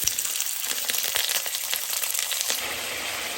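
Meat frying in hot oil in a pan: a steady, close sizzle and crackle of spattering oil runs continuously throughout with small pops, no talk.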